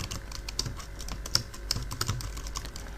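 Fingers type on a computer keyboard while Java code is entered, giving a rapid, steady clatter of close key clicks with a few louder strikes and no speech.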